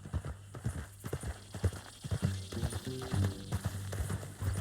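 A horse's hooves clip-clop in Red Dead Redemption 2, a steady close rhythm of hoofbeats with faint mechanical rattling and game ambience, while voices talk over it.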